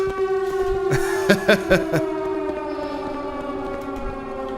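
A steady wailing video game siren drones with sustained tones, joined by a few loud sharp bursts of noise partway through.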